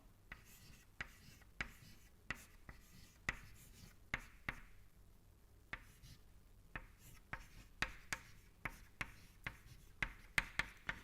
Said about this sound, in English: I am just writing the equation straight away